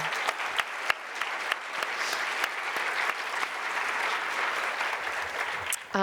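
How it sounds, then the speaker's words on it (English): An audience at a book awards reading applauds the finalists with steady, full applause and a few sharp claps, close by, ending as a voice begins to speak. "let's give them a preliminary round of applause right now"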